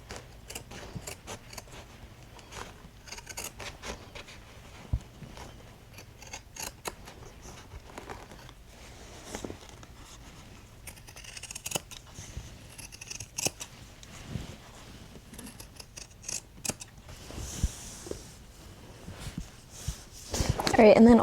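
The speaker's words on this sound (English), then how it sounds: "I'm gonna cut that seam off" Scissors snip a seam off a pair of thrifted jeans, with crisp, irregular cuts and sharp clicks spread over the whole stretch, while a person talks in the room.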